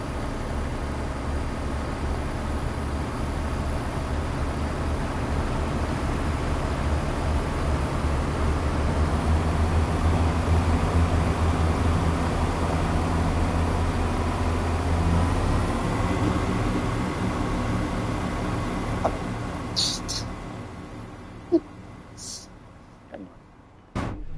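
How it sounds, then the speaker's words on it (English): A low, steady diesel locomotive engine rumble in Train Sim World 4 drones continuously, with a heavy grumbling tone that thins out near the end before cutting off. "They definitely sound very much like a grumbling diesel."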